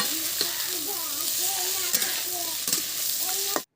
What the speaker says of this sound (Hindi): और फिर ये भुनने के बाद हम इसमें थोड़ी सी गोभी भी रख दिए और गोभी को भी हम अच्छे से भुनेंगे सभी के साथ